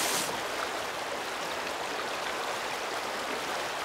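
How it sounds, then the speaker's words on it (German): A fast-flowing river current rushes in a steady, dense broadband wash, loud and close, with no talk over the continuous water noise. "Hier rüber geht's nicht, da ist die Strömung zu stark"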